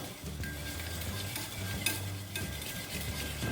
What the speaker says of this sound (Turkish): Kırmızı toz biber koydum. Karıştırmaya devam ediyorum.